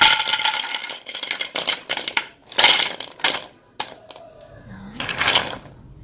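Gac seeds are poured into a thick-bottomed aluminium pot, giving a dense run of rattling, clattering hits that rise and fall in bursts for several seconds, close and fairly loud.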